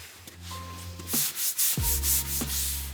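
Repeated rough scraping strokes of hand sanding on a wood panel inside a Ford Transit van, close and fairly loud, with a low steady hum underneath.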